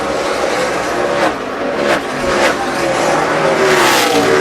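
Stock car engines roar at racing speed during the 2011 Wypall 200, a loud continuous drone with swells as cars pass close by.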